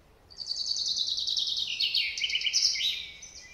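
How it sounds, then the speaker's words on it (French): A chaffinch sings its courtship song in a forest, one bright, clear phrase of rapid trills that descends and ends in a flourish, close and alone over faint background hiss. "quand le pinson est amoureux, il chante cet air-là"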